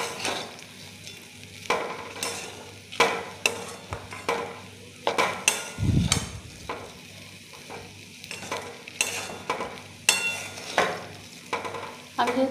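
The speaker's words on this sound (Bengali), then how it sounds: "হলুদটা দেওয়ার পরে চালটা আমি ভালো করে ভেজে নেবো" Rice fried with turmeric for bhuna khichuri, stirred in a pan: soft scraping strokes repeat every second or so over a steady low sizzle, close and fairly quiet, with no voices.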